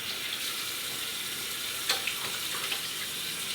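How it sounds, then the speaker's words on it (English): Hands being washed under a running tap, a steady close hiss of flowing water with small splashes as the hands move through the stream. "I'm gonna give my hands a good wash"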